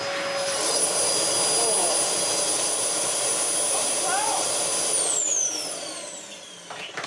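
A Dyson DC07 upright vacuum cleaner with a broken belt runs with a steady, loud whining motor roar and a high tone, then powers down and winds off in a falling whine near the end.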